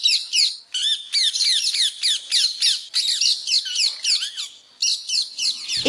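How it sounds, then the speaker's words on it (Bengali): Thousands of parrots roosting in a 200-year-old tree in a Murshidabad village raise a loud, dense chorus of shrill squawks, rapid overlapping calls repeating in bursts with only brief gaps, close and unbroken. "অথচ নিশ্চিন্তে কয়েক হাজার টিয়া ঘর বেঁধেছে একটি গাছে।"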